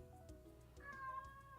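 A cat meows softly once, a faint drawn-out cry over a low background hum, with no talking.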